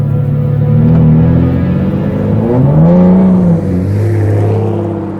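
An Aston Martin DBS engine in sport mode rumbles loudly up close, revving up and down with rising and falling pitch and a deep throaty growl.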